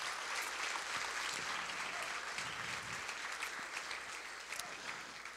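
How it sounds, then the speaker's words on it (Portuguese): Sustained applause from a church congregation fills the space after a prayer, steady and dense with many hands clapping at once, moderately loud throughout. "uma salva de palmas"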